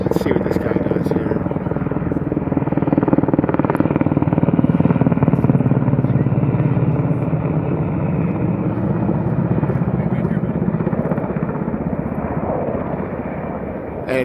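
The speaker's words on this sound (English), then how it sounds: "And there's a helicopter right there." A helicopter flies over a wildfire, its rotor thudding as a loud, steady drone that swells and then slowly fades, with someone talking over it.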